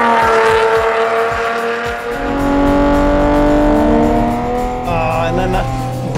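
A Ferrari Enzo supercar engine screams loudly through rising revs, with a shift midway where the pitch drops and climbs again, close and dominant, with some talk underneath.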